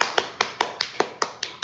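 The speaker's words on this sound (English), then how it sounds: "Let me clap." Hand clapping by a single person, about nine quick, crisp claps in an even, rapid rhythm, close and alone with no talk.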